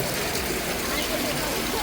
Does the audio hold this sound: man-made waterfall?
yes